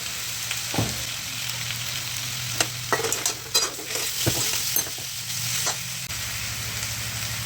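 Jaggery is stirred into a spiced gravy frying in a pan for a rassa. Scraping strokes recur irregularly over a steady, close sizzle, with no talking.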